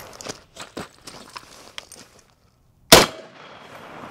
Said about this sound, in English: I've got 5 rounds of 308. We're just gonna wail on that plate and see what happens.